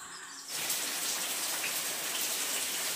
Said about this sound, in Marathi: परत पाऊस चालू झालेला आहे